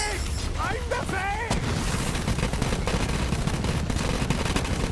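Flakker legendary shotgun from Borderlands 3 fired in gameplay, dense booming blasts and explosive crackle layered over game audio and a short synthetic chirping effect at the start, loud and continuous.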